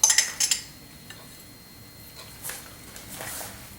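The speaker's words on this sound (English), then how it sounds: "We just slide it back and forth with a spoon like this." A metal spoon clinks and scrapes against a cheesecake plate while raspberry sauce is swept back and forth, with a few sharp taps at the start and then softer, quieter scraping.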